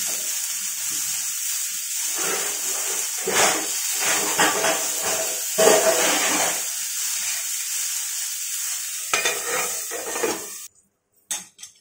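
Pointed gourd pieces fry in a little oil under a lid, giving a steady, loud hiss with crackling surges that cuts off sharply near the end.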